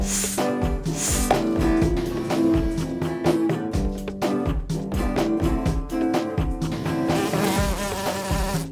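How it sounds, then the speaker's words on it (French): A cartoon bee buzzes in a children's French-language animated show, a continuous whirring drone that runs the whole time, blended with bright, steady background music. "Ça, c'est Abeille"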